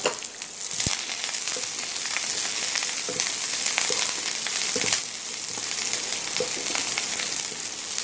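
Mutton sizzles and crackles steadily in a pan while being made into chukka, with a constant close frying hiss and occasional sharp pops and stirring knocks.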